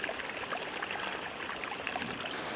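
Mountain spring water trickling steadily from a source along a hiking trail to alpine waterfalls, a close, continuous splashing babble with no voices.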